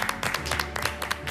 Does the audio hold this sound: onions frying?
no